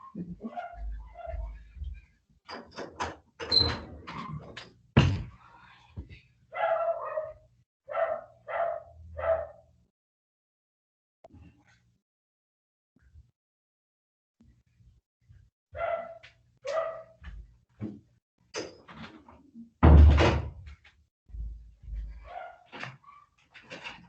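A neighbor's dog barks in repeated bursts of sharp yaps, some clusters loud and close together, broken by quiet pauses.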